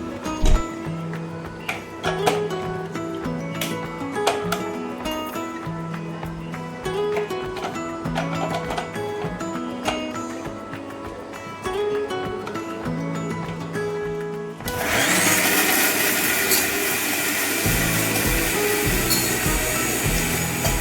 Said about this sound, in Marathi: आता मिक्सर फिरवून घेऊया एकदा